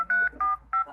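Three touch-tone beeps sound as a telephone is dialed to call the police, each clear and close, evenly spaced and heard alone.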